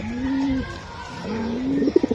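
A racing pigeon coos up close, giving two drawn-out low calls followed by a short pulsing burst of coos, alone and fairly loud.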